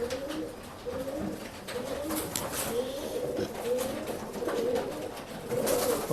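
Pigeons in a pet shop coo in soft, repeated rolling phrases, several birds overlapping at close range, with faint background noise and occasional rustles.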